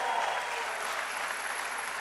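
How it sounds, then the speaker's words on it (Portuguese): A church congregation claps steadily for a woman being honoured during a service, a dense, even wash of applause throughout the short moment. "vamos dar uma salva de palmas para a irmã Corina?"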